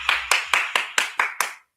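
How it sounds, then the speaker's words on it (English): Seven sharp hand claps in a quick, even rhythm, close and clear, with nothing else around them. "Let's clap the screen."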